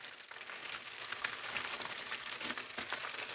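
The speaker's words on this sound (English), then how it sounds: "Can't beat cast iron when you're frying chicken." A steady, dense crackling sizzle of buttermilk fried chicken in hot oil in a cast iron pan, fairly quiet and continuous with no talking.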